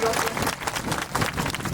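Crowd applause greets a guest at an outdoor Adivasi Suraksha Yatra rally. A steady patter of many hands clapping runs throughout, partly buried under a speaker's amplified voice.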